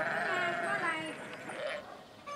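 Sheep bleat in Mongolia, a few wavering, tremulous calls close by, heard under a voice talking.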